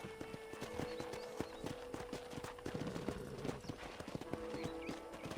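Steady clip-clop of horse hooves trotting on a hard surface in Red Dead Redemption, a continuous rhythmic beat heard close up over a faint background hum.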